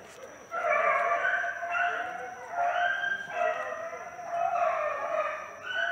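A hunting dog bays and barks repeatedly while running on a trail, its howling calls rising and falling in a steady series, fairly loud and carrying over a faint high background tone.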